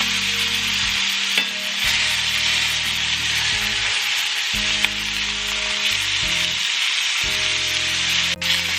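Barbacoa meat frying in a pan gives off a steady, loud sizzle and crackle, joined by a low hum and a few sharp clicks, with no talking.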